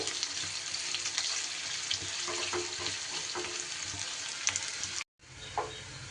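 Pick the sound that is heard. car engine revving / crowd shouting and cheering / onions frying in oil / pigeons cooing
onions frying in oil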